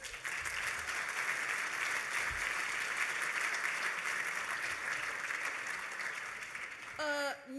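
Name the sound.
applause for the new director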